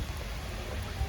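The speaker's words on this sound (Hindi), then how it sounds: "देख लो बारिश" Rain falls hard on an outdoor cricket academy, a steady close patter and hiss with low thumping gusts, continuous and fairly loud, without any voices.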